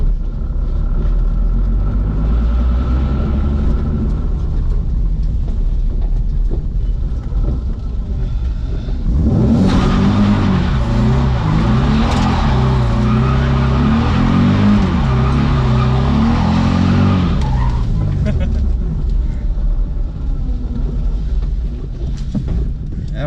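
A worn-out Z car's engine rumbles steadily throughout, swelling into a louder, rattling, vibrating roar midway before settling back, with people talking over it.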